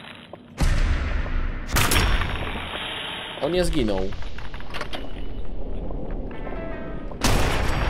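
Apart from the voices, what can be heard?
gunshots from a video game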